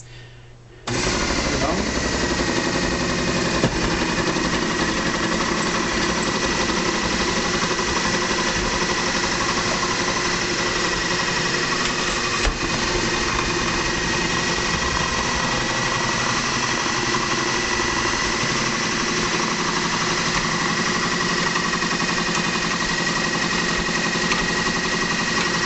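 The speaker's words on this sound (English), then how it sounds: "you can always use your KitchenAid food processor in order to make that a thing of the past" A KitchenAid food processor mincing onions switches on abruptly and then runs as a loud, steady, close whirring drone with a constant rough buzz for about twenty-five seconds, with no voices.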